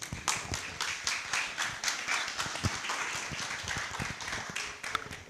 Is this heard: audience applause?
yes